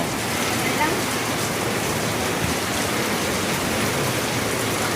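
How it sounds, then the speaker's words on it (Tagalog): Heavy rain pours steadily in a dense, constant patter close by at the Caticlan jetty port, with water dripping and splashing continuously from a leaky roof throughout. "Inabot kami ng ulan. Ito ngayon, para kaming nasa ilalim ng sagingan. Puro tulo."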